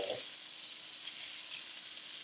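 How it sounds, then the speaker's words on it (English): Bacon sizzling in a pan with olive oil, a steady close crackling hiss throughout with no talk. "we're going to go ahead and throw our bacon on"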